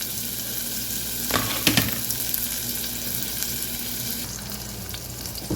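Onions for a tomato onion curry soup frying in a pan, a constant close sizzle with a couple of clattering stirs near the middle and a softer scrape toward the end.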